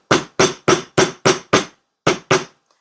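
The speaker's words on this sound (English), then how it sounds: "bring in the bench block and the mallet" A mallet hammers a coiled jump-ring wire on a steel bench block: eight sharp, loud blows at a steady pace, six in a row, a brief pause, then two more, with no talk.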